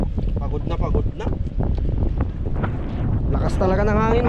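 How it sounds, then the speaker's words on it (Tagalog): Strong typhoon wind roars steadily across the microphone at sea off Cagayan from a fishing boat, loud and continuous, with someone talking over it throughout. "Lakas talaga ng hangin mga idol kasi ano, bagyong Pipito"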